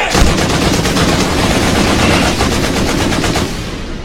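Video game gunfire rattles in a sustained, rapid automatic burst, loud and dense with no pauses for about four seconds.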